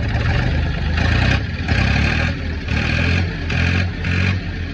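A Ford Industrial 4500 loader tractor engine held at high idle, a loud, close diesel drone that rises and falls in steady rhythmic surges, with no talk over it.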